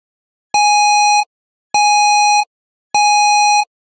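Three identical loud electronic alarm tones from a CIPO detector in a Barney error parody, each a steady harmonic beep lasting about 0.7 seconds, evenly spaced with silence between them.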